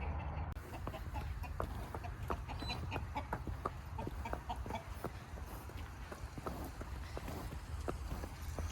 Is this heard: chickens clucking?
yes